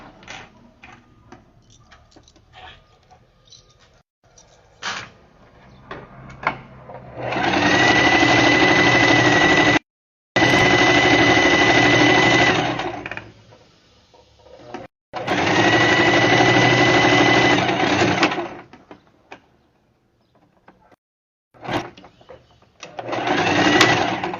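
A sewing machine runs in three loud bursts of rapid stitching with short pauses between, backstitching along the seam of a fabric diaper holder, with quieter handling noises in the gaps.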